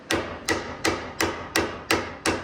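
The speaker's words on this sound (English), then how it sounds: "And then I use a regular size mallet, metal mallet. Give it a little tap on the bottom." A metal mallet strikes a Raptor Icon level lift, 2023, to knock it loose: seven sharp, evenly spaced taps, close and fairly loud, each ringing briefly before the next.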